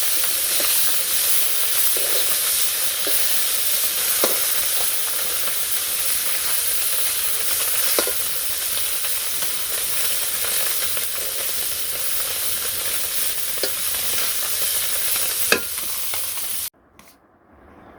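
Small fish rubbed with salt, turmeric and chili fry together in an oil-filled kadai in a village kitchen, giving a steady, close, unbroken sizzle and hiss with a few faint pops and clicks, then stopping abruptly near the end.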